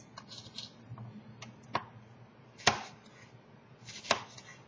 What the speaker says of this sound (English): I'm just going to cut it into little strips